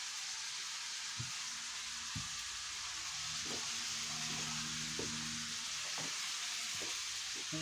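A sizzling dish of meatballs being stirred in a pan, a steady hiss of frying with a string of scraping and knocking strokes from the spoon, close by and without talking.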